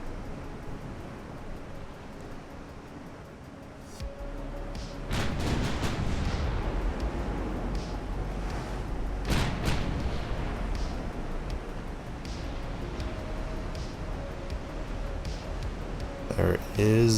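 Battle cruiser heavy guns firing in the naval strategy game Ultimate Admiral: Dreadnoughts, deep booms and scattered blasts over a constant rumbling battle backdrop, with someone talking throughout.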